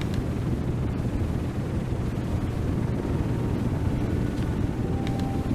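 Aircraft engine starting on a carrier deck in the Aircraft Carrier Survival game, a loud, continuous broadband roar like a rushing rumble that holds steady throughout, with nobody talking.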